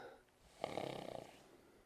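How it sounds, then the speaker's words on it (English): A horse yawns once, a soft breathy exhale with a brief fluttering, snore-like rasp in the middle, heard close and quiet. "There's another yawn."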